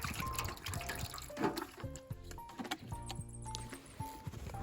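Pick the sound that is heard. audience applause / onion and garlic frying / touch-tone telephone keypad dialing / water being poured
water being poured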